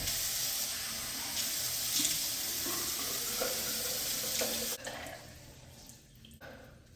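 Water runs steadily from a tap onto soapy locs as the hair is wetted, a loud hissing stream that drops and thins near the end.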